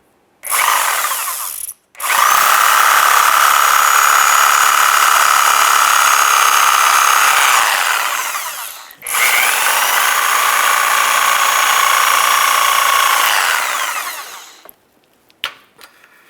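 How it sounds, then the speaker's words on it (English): A power tool cuts the old front sway bar bushing off a 2003-2011 Mercury Grand Marquis. It runs loud in two sustained bursts with a short stop between them, then winds down into quiet. "Just go ahead and cut that bushing right off of there."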